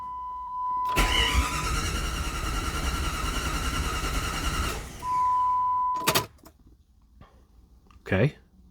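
A 1997 Jeep Grand Cherokee ZJ engine cranks over for several seconds after a head gasket install. A steady dashboard chime sounds before and after, followed by a few sharp clicks and knocks.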